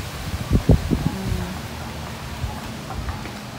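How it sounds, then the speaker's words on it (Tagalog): Gusty wind roars and buffets steadily, with a few rustling thumps early on and no voices. "Ay, lakas ang hangin."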